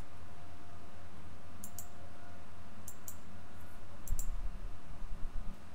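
Mouse clicks at a computer running AutoCAD drafting software, a few sharp paired clicks spaced apart over a steady low background hum, with some soft handling noise near the end.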